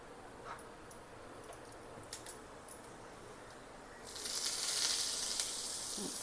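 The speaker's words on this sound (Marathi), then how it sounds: "जिरे तडतडलं की आपण ह्या चटणीला छान फोडणी देऊया" Faint crackling and sizzling of cumin seeds in hot oil for a chutney tempering, with scattered small pops that swell into a louder hiss near the end.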